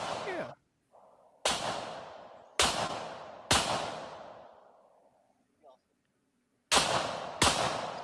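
Sharp gunshots from a played-back clip crack out one after another, each ringing and fading over the next second, with two more quick shots near the end.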